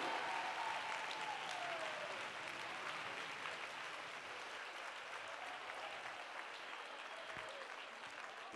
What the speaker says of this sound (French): On les applaudit pendant qu'elles se dirigent vers la scène.